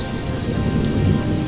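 Heavy rain pours down in a dense, steady hiss, loud and close, with no other sounds.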